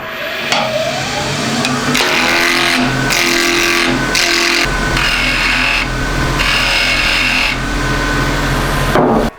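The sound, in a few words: wood lathe truing a wood blank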